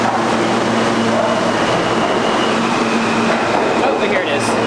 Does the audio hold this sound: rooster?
no